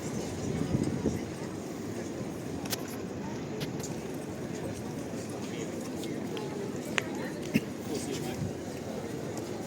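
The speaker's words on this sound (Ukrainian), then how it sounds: "їде трамвай" A tram rumbles steadily along its rails on a street in Lviv, a continuous low grinding wash of noise with faint street sounds around it.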